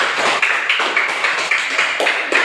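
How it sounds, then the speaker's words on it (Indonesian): Classmates in an Indonesian classroom clap for the first group, a brief patter of hands with sharp irregular claps ringing out fairly close over a couple of seconds. "Jadi tepuk tangan buat kelompok 1 dulu."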